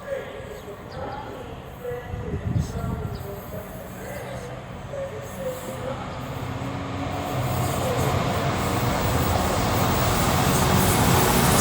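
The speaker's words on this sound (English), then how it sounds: "another Freightliner Class 66 working for Mike 56 from London Gateway Freightliner to Garston FLT, passing through about 9 minutes late" A Freightliner Class 66 diesel locomotive hauling a freight train through Stafford on the West Coast Main Line, its engine drone and wagon rumble building steadily louder as it approaches.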